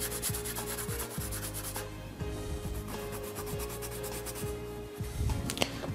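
Pencil lines on a technical drawing are smudged with steady, close, papery rubbing strokes that repeat in a quick back-and-forth rhythm, with no talk.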